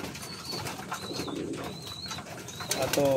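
Pigeons cooing in a fancier's loft, soft repeated coos at a moderate distance, several short calls spaced across the moment, with faint rustling and a brief chirp near the end.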